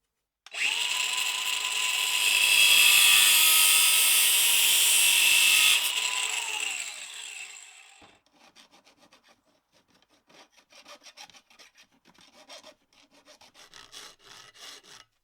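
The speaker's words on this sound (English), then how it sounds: "I do have some 8mm copper pipe though, which should be perfect. It just needs cutting to length and deburring." Cutting and deburring 8mm copper fuel pipe for a 2.2 engine swap: a loud steady grinding cut for about five seconds, then short scraping strokes of deburring, nearby and with no talk.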